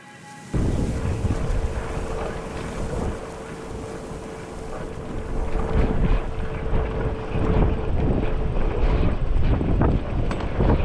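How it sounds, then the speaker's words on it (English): Strong wind buffets the microphone on a high mountain pass in Albania, a loud, continuous roaring rush with gusts that swell and ease across the whole stretch, alone with no voices. "It's very windy"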